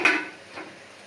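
A lid settles onto a cooking pot of potatoes boiling for a shol fish head dish, giving one short, close metallic clank that fades quickly, followed by a softer faint knock.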